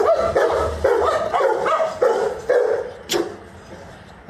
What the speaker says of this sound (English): I think they are barking at each other